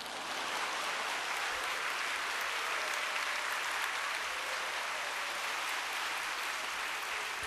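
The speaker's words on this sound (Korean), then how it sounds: "박수 한번 부탁드리겠습니다." An audience at a workplace Bible study group breaks into steady, sustained applause, a dense wash of many hands clapping evenly for several seconds with no talk over it.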